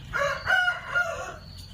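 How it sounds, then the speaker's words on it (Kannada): A brooding setup holding 1200 four-day-old poultry chicks gives off continuous overlapping calls, steady and fairly close, with no talking. "ನಾವು ತರಿಸಿರೋದು 1200 ಮರಿ. ಇದೆಲ್ಲ ನಾನು ನಿಮಗೆ ತೋರಿಸ್ತಿರೋದು ಬ್ರೂಡಿಂಗ್ ಸೆಟಪ್ ಇದು."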